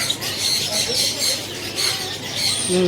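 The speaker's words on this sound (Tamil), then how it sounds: "பாருங்க love birds, big love birds, பெரிய லவ் பேர்ட்ஸ்" Shrill, chattering squawks and chirps from a group of lovebirds at a pet market in Mumbai, continuous and busy, heard fairly close.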